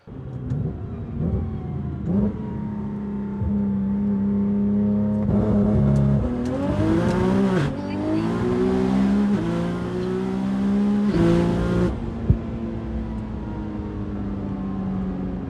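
A Nissan R35 GTR on stock 20-inch wheels, running MoTeC torque management, pulls hard through the gears with rising engine pitch, brief shift breaks and a loud, sustained roar close by.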